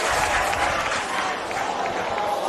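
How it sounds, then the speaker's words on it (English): A rugby league match crowd cheers and claps in a loud, continuous roar, broad and steady from the stands with faint voices mixed in. "You can hear the crowd get into it now."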